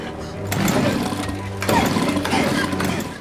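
A chainsaw from the horror film Evil Dead (2013) buzzes and whines in two rising bursts, with voices talking over it.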